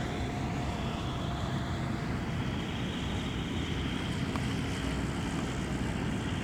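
Small airplane on a solo landing, heard as a steady, dense roar of engine and wind noise throughout with no distinct changes or voices.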